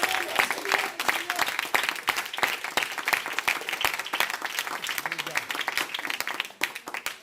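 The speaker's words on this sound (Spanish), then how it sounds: "Denle los ofrendas de aplausos al Señor" A Spanish-speaking congregation claps loud and fast as an offering of applause to the Lord, with sharp, uneven claps running continuously over a low murmur of voices.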